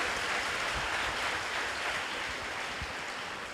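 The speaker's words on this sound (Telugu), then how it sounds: "గట్టిగా చప్పట్లు కొట్టి ప్రభుని స్తుతిద్దాం" Church congregation clapping in praise at a prayer gathering, a dense, fairly quiet patter of many hands sustained evenly throughout, heard from a distance with no voices over it.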